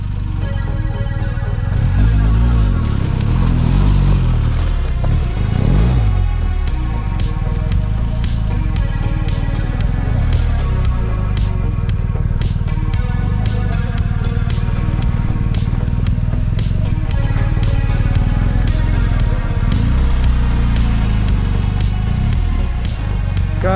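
A BMW GS motorcycle climbs a hill at the BMW Enduropark Hechlingen, its engine droning steadily and loudly with revs rising and falling, close to the listener, with clicks and rattles of terrain throughout.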